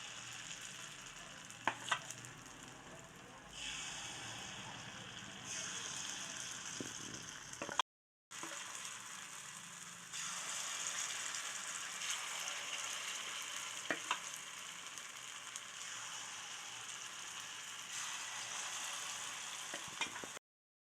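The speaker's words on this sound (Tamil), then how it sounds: "இப்போ எண்ணெய் காஞ்சிடுச்சு. நம்ம கொஞ்சம் கொஞ்சமாக மாவை இதில் ஊற்றிக்கலாம்." Banana paniyaram batter sizzles in hot oil with a steady bubbling hiss, quiet and continuous. There is a brief pause partway through, and a few soft clinks of a utensil can be heard.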